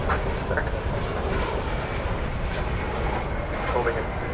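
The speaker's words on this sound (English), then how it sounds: "an Airbus A321 is taking off now." An Airbus A321 jet taking off at DFW Airport, a steady, continuous engine roar at moderate distance that holds level throughout, with faint radio chatter in the background.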